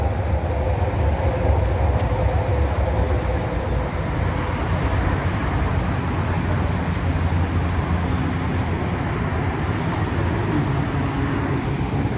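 A metro train rolls past near the Burj Khalifa, a steady loud rumble of wheels on track that holds evenly throughout with no talk over it.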